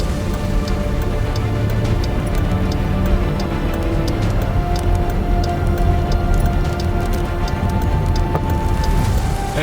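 Heavy, steady rain pounds a surface during a large rain-wrapped tornado near I-69 in Kentucky, a loud continuous roar of dense drops with no break and no voices.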